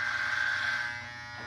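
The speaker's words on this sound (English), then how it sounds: "these Andis T outliners" Andis T-Outliner hair clippers buzz nearby in a steady high-pitched electric hum, strong at first and then easing slightly softer, with no voices.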